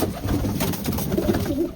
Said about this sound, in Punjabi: ਇਧਰ ਤੁਹਾਨੂੰ ਦੋ ਕਬੂਤਰ ਹੈਗੇ